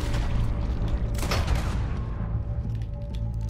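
A heavy gunshot booms in Red Dead Redemption 2, one strong blast around the midpoint over a low rumbling game backdrop, followed by a few fainter distant pops.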